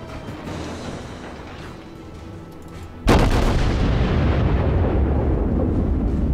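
Ship guns firing in World of Warships, featuring the cruiser St Louis and battleship South Carolina: a low rumbling ambience broken by one sudden, massive cannon boom that rolls on with a long, loud sustained roar.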